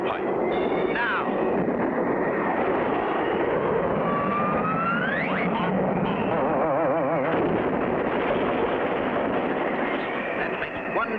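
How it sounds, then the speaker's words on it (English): Cartoon propeller airplane engine roaring steadily at takeoff during an air race, a loud continuous drone with rising whine sweeps, mixed with background music and effects. "Frenchie Fontaine waits for the takeoff signal, not knowing the other end of the cable that's fastened to the pylon is hooked to his plane's tailpipe"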